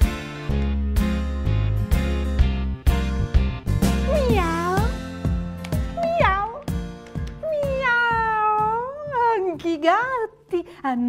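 A voice imitates a cat, singing a string of drawn-out, wavering meows over a steady musical backing with a strong beat during a children's rights anniversary performance, the mewing calls rising and bending one after another.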